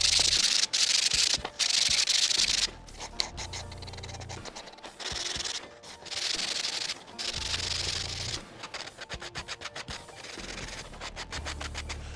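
Sandpaper rubs against a small wooden trivet in a workshop, a close, loud, rhythmic scratching made in repeated bursts of strokes with brief pauses between them.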